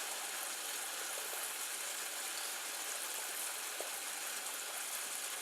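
Maple syrup boiling near 217 degrees, a steady dense hiss of bubbling and fizzing that holds at an even level throughout, with only faint clicks and no talking.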